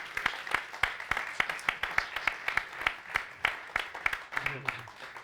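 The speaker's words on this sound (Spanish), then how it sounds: "Un aplauso." A small audience claps at the close of a lecture on an ancestral Pacific raft, with a dense, steady patter of hand claps continuing for several seconds and a faint voice underneath.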